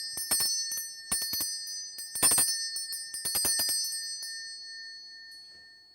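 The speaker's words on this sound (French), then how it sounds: "mesdames et messieurs, voici la cloche tibétienne." A Tibetan bell rings in short bright strikes during a magic trick, several quick clusters of metallic tones followed by a lingering, fading shimmer, with no talk.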